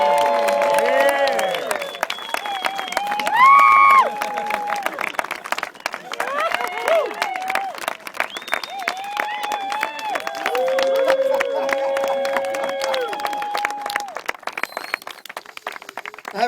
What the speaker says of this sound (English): I have an instruction here that says, get them to applaud.